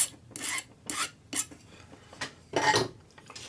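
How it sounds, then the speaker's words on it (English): Metal earring wire ends filed flat with a number 2 cut flat hand file, giving a run of close, raspy strokes in an uneven rhythm, with no talking. "File the ends flat with your number 2 cut flat hand file,"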